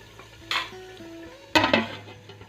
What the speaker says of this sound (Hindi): अब हम इस पे लिड लगा देंगे।